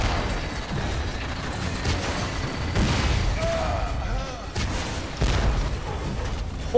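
Rockets firing and exploding in the shooter game Hard Reset, a series of heavy booms and bursts with mechanical clanks over a dense, rumbling battle din, several impacts spaced a second or two apart.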